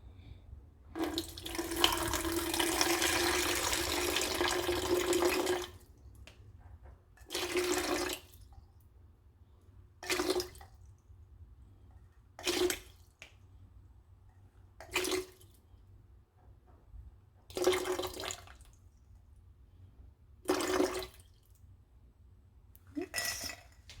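Water from a tap runs into a container to measure out water for making African black soap, one long pour followed by several short bursts, close and moderately loud with brief quiet gaps between.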